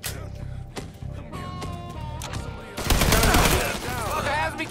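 Gunfire in a tense shootout, a dense rattling fusillade of rapid shots that erupts midway and stays loud, with voices heard before and during it.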